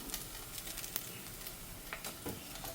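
Crushed ginger and garlic hit a pan of softened sautéed onions for a small fish curry, giving a steady, quiet sizzle with faint crackles and spits running throughout, no voices.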